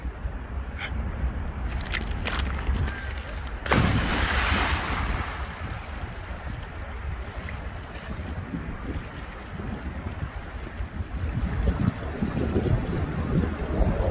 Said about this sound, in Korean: 물살 보시다시피 바다처럼 약 바다만큼은 아니지만 파도가 일렁거리듯이 물살이 셉니다